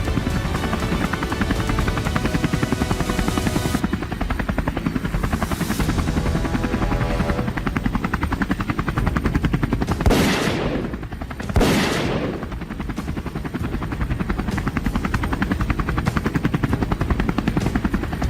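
A helicopter roars continuously overhead during an aerial wild boar hunt in a forest, its rotor thrum loud and near, broken by a few sharp bursts of gunfire.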